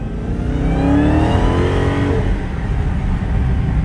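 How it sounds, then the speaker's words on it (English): A car engine revs hard and loud with rising pitch sweeps, a sustained roar close by that may include tire squeal from burning rubber. "It's gonna burn rubber."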